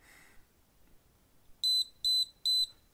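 Three sharp, high electronic beeps from an AceTech Tracer toy blaster sound in an even rhythm, loud and close, after a near-silent start.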